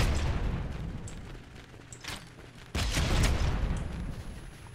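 Grenade launcher shots and blasts in the survival game CryoFall, a few heavy booming bursts around two and three seconds over a dense low rumble of combat noise, no voices.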